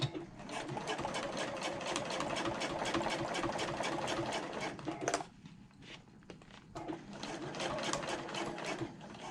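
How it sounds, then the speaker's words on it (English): A sewing machine stitches a quarter-inch seam along a bag's back flap, a rapid steady mechanical chatter close up for about five seconds, then a brief pause with small handling sounds before the stitching resumes. "we pivoted and we are now sewing at a 1/4 of an inch seam allowance"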